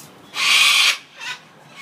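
A bird on a balcony gives two loud, harsh calls, one long squawk followed by a shorter one, close and clear with no talking over it.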